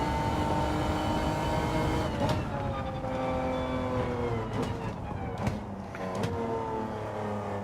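Engine roar from a fast car racing in the Gran Turismo 7 video game on PSVR2, a loud sustained whine with shifting pitch and a few sharp transient knocks, continuous throughout.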